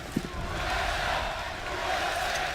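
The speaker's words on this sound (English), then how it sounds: "The crowd trying to get Cloud9 into it." A large esports arena crowd at the ELeague Boston Major 2018 roars continuously for Cloud9 during a Counter-Strike semi-final on Cobblestone, a broad sustained wall of cheering and chanting heard from within the venue.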